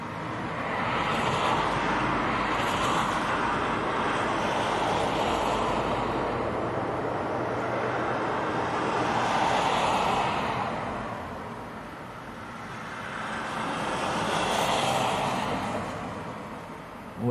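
A Ryanair airliner coming in to land at Leeds Bradford Airport in strong gusty wind of about 50 mph. Broad, steady roar with wind buffeting the microphone, swelling and easing in waves throughout, and no voices.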